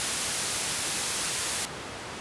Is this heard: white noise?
yes